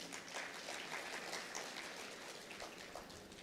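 Faint, distant crowd clapping at a Vikramotsav event in Ujjain, a dense, steady patter of many hands that carries on for several seconds.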